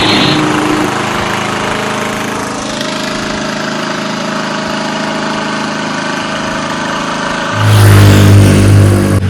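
A Dehan 6-inch brushless 21V cordless mini chainsaw runs with a steady loud motor whine close by, then surges louder near the end as it revs up.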